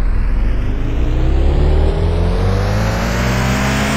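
A car engine in the video game Car For Sale revs hard and climbs in pitch, loud and continuous. It holds briefly mid-rev, then keeps rising alone without any voices.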